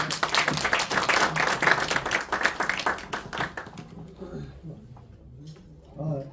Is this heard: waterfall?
no